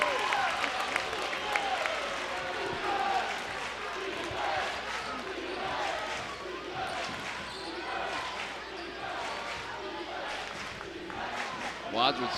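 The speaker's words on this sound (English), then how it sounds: "Wadsworth student crowd yelling defense, defense." A student crowd at a high school basketball sectional final chants "defense" in a loud, rhythmic roar filling the gym, with sneaker squeaks and ball bounces mixed in and a commentator talking over it.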